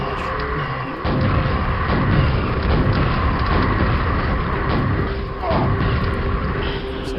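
Rocket launcher blasts in the Quake game roar as loud, sustained explosive booms, with heavy rumbling bursts that drop out briefly around the first and fifth seconds before surging again, while someone talks over them.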